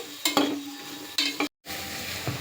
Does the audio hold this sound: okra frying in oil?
yes